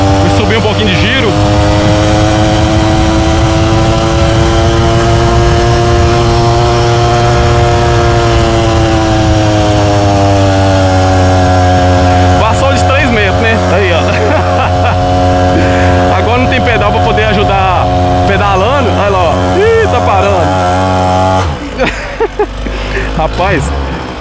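A small brush-cutter engine fitted to a motorcycle revs loudly and steadily, its pitch climbing and holding in a droning buzz for about twenty seconds before the engine drops off abruptly.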